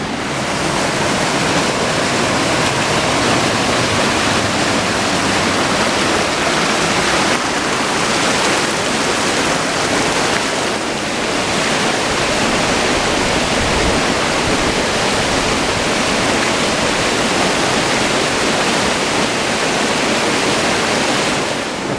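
Loud, constant rushing of a flowing stream, broadband water noise filling the whole stretch while someone wades across it outdoors on a hike in New Mexico; no talking.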